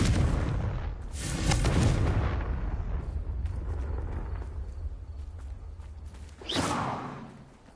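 Confringo spell explosions in the video game Hogwarts Legacy, a booming blast with a rushing whoosh near the start that rolls off slowly, then a second sharp burst late, loud and close.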